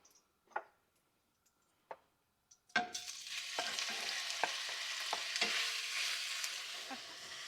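A few clinks and taps give way to a loud, steady sizzle as pork hits a hot pot and browns, with occasional stirring scrapes over the frying hiss.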